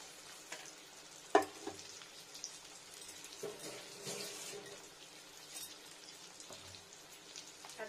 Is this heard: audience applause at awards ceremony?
no